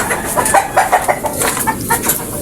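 An Alimbuyogin fighting rooster clucks up close in a steady series of short, throaty calls, loud and clear with faint background noise and no talking.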